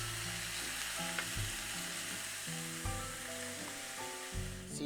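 Marinated meat cooks in batches in a pan over medium-low heat, giving a loud, continuous broad sizzle with a few faint clinks and shifts.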